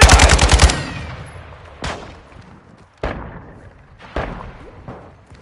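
Video game gunfire: a rapid automatic burst opens the clip, then three single loud shots ring out at spaced intervals, each trailing off into echoing decay.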